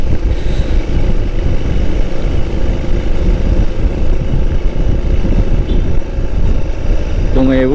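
A white Honda Megapro motorcycle engine revs hard, a loud, steady, continuous drone held close throughout with little variation, ending with a brief rising tonal sweep as the throttle changes.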